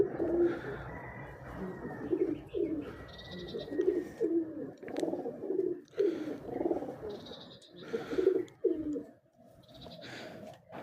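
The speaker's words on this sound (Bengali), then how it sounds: "দেখেন কত সুন্দর কবুতর।" Pigeons coo from a rooftop loft in repeated low, rolling phrases, several birds overlapping close by, with a few higher chirps now and then and no talking.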